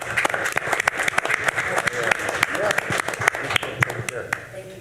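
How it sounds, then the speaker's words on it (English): Scattered applause at a city council meeting for a charity being honoured, a modest round of clapping from a small crowd in a hall, steady for several seconds. "So a little round of applause for CASA."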